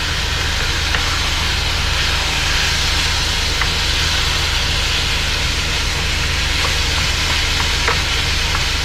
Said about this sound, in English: So now you want to break up the meat as it's browning.